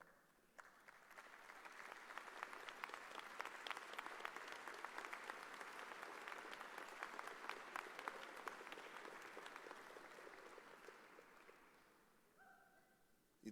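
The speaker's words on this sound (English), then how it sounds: "let's give your parents and those that pushed you to get to this point a round of applause as well" Graduation audience applauding parents and supporters in a large hall, a dense sustained roar of clapping that swells, holds steady for about ten seconds and then fades out, with a brief tone near the end.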